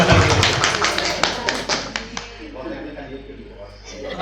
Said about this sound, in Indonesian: Pak Rudi, beri tepuk tangan.